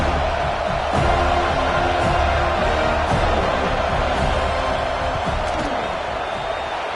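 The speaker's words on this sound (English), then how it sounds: "This crowd trying to do its part to get inside the kicker's head." A football stadium crowd, with Florida State supporters, keeps up loud sustained noise during a field goal try, a thick steady roar with scattered rhythmic thumps and claps running through it.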